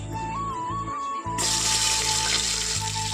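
Chopped onion going into hot white oil with a bay leaf in a pressure cooker, a quiet start then a sudden broad sizzle that stays steady and close, with no speech.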